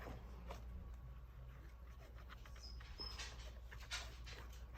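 Dogs whimpering and whining softly at a distance, faint and intermittent over a steady low background rumble, with scattered small scratching sounds.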